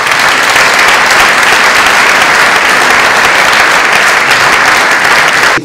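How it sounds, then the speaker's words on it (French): Dense, loud audience applause filling a hall at a film screening, a steady wash of many hands clapping without a break before it cuts off abruptly. "Je vous demande de bien vouloir l'applaudir."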